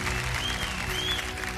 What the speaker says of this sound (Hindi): जोरदार तालियां बज जाएं इनके लिए।